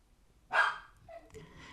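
A single loud dog bark close by, then quieter faint rustling and soft sounds.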